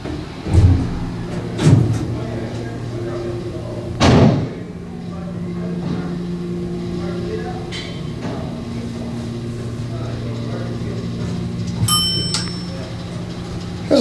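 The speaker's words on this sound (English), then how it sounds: "now let's listen to the motor this time" An old Otis hydraulic glass elevator's motor runs with a steady low hum, punctuated by several loud thumps and clunks and a brief metallic ring near the end.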